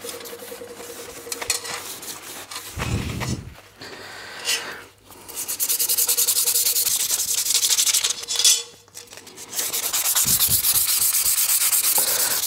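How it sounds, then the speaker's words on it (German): Close, rasping strokes of sandpaper scraping over a Puch Maxi N moped frame reinforcement, long back-and-forth rubbing passes broken by brief pauses, loud and gritty. "Und jetzt tue ich die schnell anschleifen, ganz leicht, mit dem Schleifpapier entfetten."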